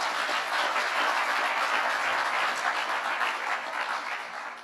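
Sustained, dense clapping from an audience at an electric cooperative's annual meeting, a steady wash of many hands that holds at full strength and eases slightly near the end, with no talk over it.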